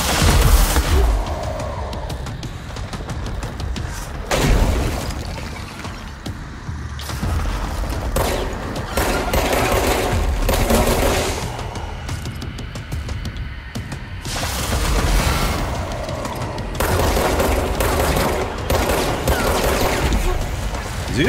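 Dense barrage of rocket blasts and weapon fire during a firefight in the video game Control, with repeated loud booms and bursts layered over a continuous battle din.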